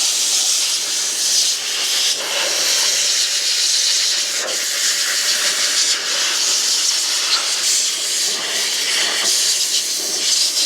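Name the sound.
air blower blowing debris out of large RC car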